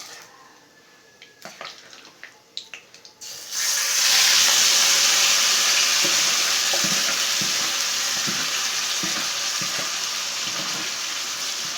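Marinated chicken is poured into a hot pan, setting off a loud, sustained sizzle after a few clattering knocks, with rhythmic scraping of the stirring spoon running under the frying hiss.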